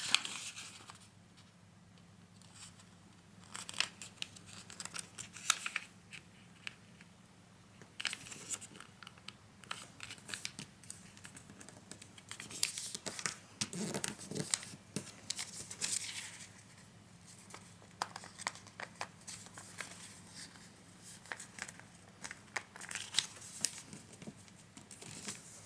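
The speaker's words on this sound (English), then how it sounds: "we're going to crease from edge" Paper being folded and creased into a sushi origami model, giving soft repeated crinkles, crunches and sharp creasing strokes close up over a quiet background hum, with no talking.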